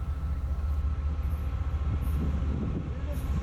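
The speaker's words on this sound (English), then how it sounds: "See the train?" A heavy train rumbles steadily nearby on Donner Pass, a continuous low roar with faint rail noise and occasional high squeals, no voices.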